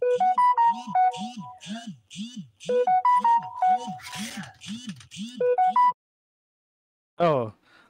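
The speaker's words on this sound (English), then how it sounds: "Oh, my phone was ringing." A melodic phone ringtone repeats its bright chiming pattern over a steady bouncing beat, loud and close, then stops; a short voice follows afterward.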